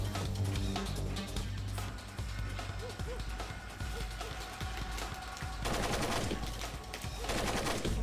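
Rapid automatic gunfire rattles continuously in the Splinter Cell video game, dense overlapping shots with some heavier bursts, mixed with game sounds and faint voices underneath.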